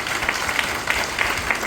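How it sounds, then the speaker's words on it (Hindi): Crowd applause at a camp meeting, a continuous wash of many hands clapping at moderate level, slightly distant and without speech. "एक जोरदार ताली जो"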